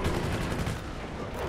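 Dense, continuous machine gun fire from an M16 in the video game Prototype, a loud unbroken rattle of rapid shots filling the whole moment with no pauses.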